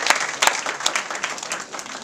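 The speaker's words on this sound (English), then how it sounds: "Please clap hands for Ankit." Participants at a case study presentation clap for Ankit, a lively round of many hands with a few sharper individual claps standing out, loud and close, rising and dipping slightly over two seconds.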